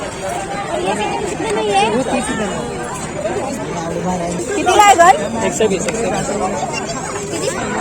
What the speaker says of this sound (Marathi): माय गॉड गर्दी ग